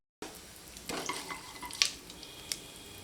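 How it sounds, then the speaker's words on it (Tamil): Whole spices, cinnamon, cloves, stone flower and a bay leaf, crackle and sizzle in hot oil, with a few sharp pops and spits over a soft frying hiss, close by and fairly quiet. "போட்டதெல்லாம் நல்லா பொறிஞ்சு வருதுங்க"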